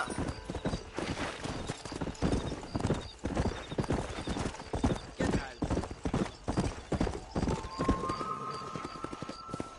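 Galloping horses in the Red Dead Redemption video game, a steady rhythmic clip-clop of hooves running on and on close by, with a horse whinnying briefly near the end.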